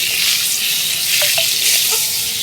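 Fried eggplant added to garlic in a hot pan for begun posto, sizzling loudly and steadily up close, with a couple of faint utensil taps partway through.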